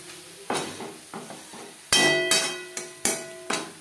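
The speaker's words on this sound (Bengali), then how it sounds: "এভাবে একটু খুন্তির সাহায্যে ম্যাশ করে দেব।" A spatula mashes cooked onion and tomato masala in a pan for a puti fish curry, making about eight close, sharp knocks and scrapes at an irregular rhythm, with a faint sizzle between them.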